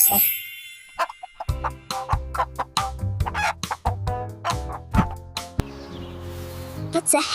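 A chicken clucks in a run of short, sharp bursts over a steady musical backing, fairly close and clear, with a rooster-like call near the start.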